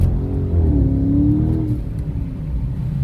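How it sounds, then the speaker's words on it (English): A 2018 Dodge Challenger R/T Scat Pack accelerates hard, its engine rising in a loud, sustained roar with a climbing tone before easing off, close to the microphone and with no speech. "So we're gonna do one more quick pull and then we'll bring the car back."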